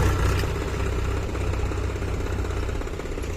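A farm tractor engine runs close by in a steady, throbbing idle with a low knocking chug as it starts moving off toward the field, alone without talk.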